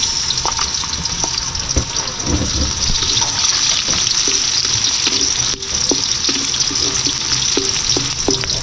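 Onions sizzle steadily in a hot pan, a dense continuous frying hiss with scattered clicks and scrapes of stirring throughout, close and loud.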